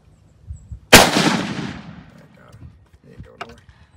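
Single loud rifle gunshot during a Texas exotic ram hunt, a sharp close crack followed by a long rolling echo that fades over about two seconds, with faint murmured voices around it.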